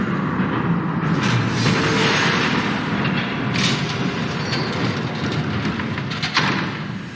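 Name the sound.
train approaching, from Batman The Telltale Series video game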